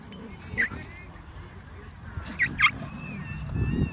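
A dog gives a few short, high yips and whimpers, spaced out over several seconds, under background noise and some faint talking.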